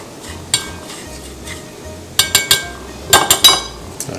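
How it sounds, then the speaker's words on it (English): A utensil stirs grated cheese into a mixture in a bowl for eggplant parmesan, giving close scraping strokes and clustered bright clinks against the bowl over a quiet background. "Just going to mix that around in there."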